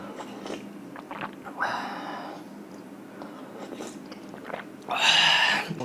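Close, crisp crunching and biting while eating beef seaweed soup ramen, with two louder crunchy bursts between quieter chewing sounds and soft breathing.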